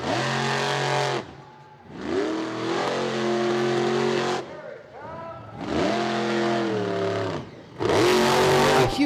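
Toxic monster truck engine revving hard at Charlotte Motor Speedway, loud repeated surges that rise and fall in long bursts, with brief dips between them and a faint voice present.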